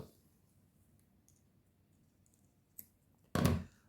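A small piece snipped off a bead garland, with soft handling noise and then a sharp click and a short loud snap near the end.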